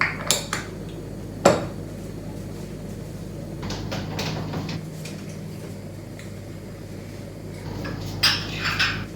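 Coffee cups set down and handled on a kitchen counter, a few clear ceramic clinks and knocks scattered over a steady low room hum, with a sharp knock early and a small cluster of clatter near the end.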